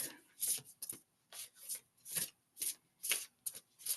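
Quick bursts of oracle card shuffling, a riffling rasp repeated in short bursts with brief pauses between, close and fairly quiet, no talking.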